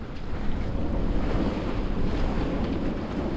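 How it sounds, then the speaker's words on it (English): Strong wind buffets the microphone over steady wave and surf noise while a sailboat under full sail pushes through rough water, a continuous loud roar with no speech. "the wind's starting to calm now, although the waves are"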